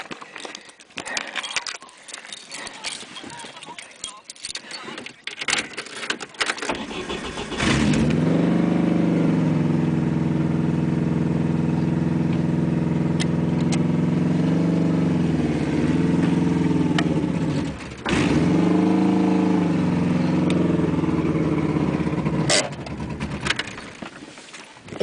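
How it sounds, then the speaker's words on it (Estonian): A Lada Samara 21093 engine cranks amid rustling, then catches and settles into a loud, steady idle with a brief dip partway through before holding its rough drone, no talk. "täna me siis paneme nüüd auto tööle korra"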